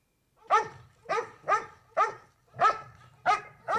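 A dog in the 1981 horror film Halloween II barks loudly and close, seven sharp barks in a steady rhythm, with no talk over them.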